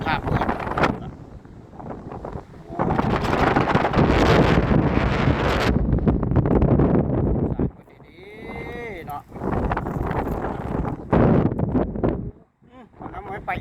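Dry wind blows hard and roars against the microphone in long, heavy gusts that rise and fall, mixed with rustling, while a person talks through parts of it.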